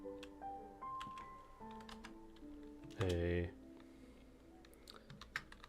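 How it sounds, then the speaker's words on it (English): Computer keyboard keys click in quick, irregular bursts close by, with a spoken voice over part of the typing. "Gosh, I suck at typing symbols."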